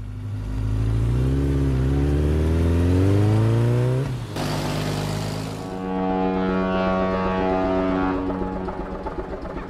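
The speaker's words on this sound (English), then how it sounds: "Motorcycle." A motorcycle engine revving loudly, pitch climbing and falling in sweeps, a brief broadband burst midway, then settling into a steady droning tone, heard alone without voices.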